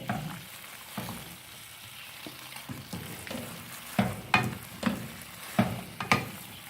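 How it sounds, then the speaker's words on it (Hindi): Spoons stir and fold fettuccine alfredo in a pan, with soft scraping and several sharper clinks of metal against the pan under a faint sizzle, close and quiet. "ये मैं एक और चम्मच पकड़ूंगी और इसके साथ मिक्स करूंगी।"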